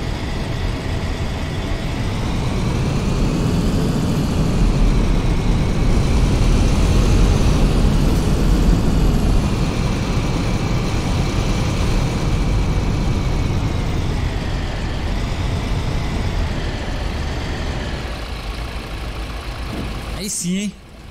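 Steady drone of a VDL bus engine in Fernbus Coach Simulator heard with a window open, a continuous low rumble with shifting harmonic tones as it revs and settles, under a person talking.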